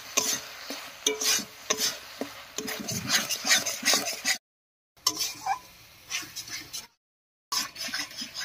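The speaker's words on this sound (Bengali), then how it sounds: "এবারে একসঙ্গে করে কষিয়ে নেব।" Pabda fish masala with turmeric, salt and peas being stirred and sautéed in a pan: a steady close run of scraping, clinking spatula strokes over a soft sizzle, broken by two short silent gaps.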